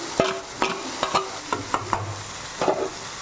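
Raw banana pieces and tomato are stirred in a pan of hot oil, with repeated scraping strokes of a spoon over a soft, steady sizzle, close and without speech.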